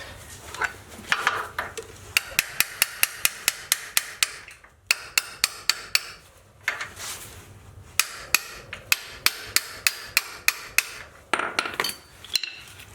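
Rapid, sharp hammer strikes on a Jeep's TeraFlex HD leaf spring shackle ring out in quick bursts of evenly spaced blows, separated by brief pauses, fairly close and loud.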